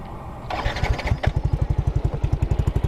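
A rebuilt motorcycle engine fitted with a DS4 exhaust pipe cranks briefly, catches, and settles into a loud, close, rapid, evenly pulsing putter.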